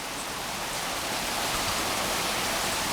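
Hail coming down hard in a storm, a dense continuous hiss and patter of ice striking surfaces and a pond, steady and enveloping with no break.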